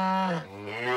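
Cartoon cows moo in a long, loud, drawn-out bovine call with a dip and rise in the middle, heard clearly on its own without talk.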